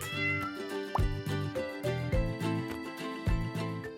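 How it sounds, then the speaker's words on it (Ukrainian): A cat meows over a bouncy children's music track, several short mews rising above the steady melodic backing, clear and close. "Кіт."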